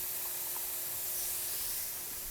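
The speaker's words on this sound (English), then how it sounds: "we're going to need to spray the backside of these valves and try to blast as much crap off them as we can" Cleaner sprayed from a sprayer onto the backs of engine valves during work on a V12-swapped Mustang, a steady close hiss lasting a couple of seconds with no talk.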